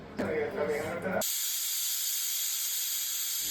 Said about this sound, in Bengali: পাঁচটা শীষ দেওয়ার পরেই রেডি খিচুড়ি